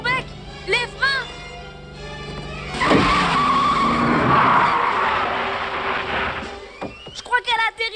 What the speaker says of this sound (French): Lombec, les freins!